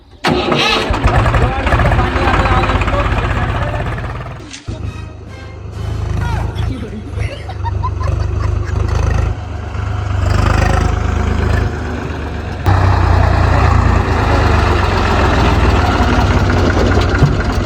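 A tractor engine runs in a paddy field during rice harvest, a loud low rumble with a start-up burst and a sharp break partway through, while several people talk over it throughout.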